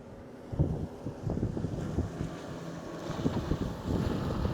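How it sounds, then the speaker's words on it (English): A Century motor boat passes on Jupiter Inlet, its low engine rumble rising and falling amid gusty wind buffeting the microphone and water noise. "That's a Century boat."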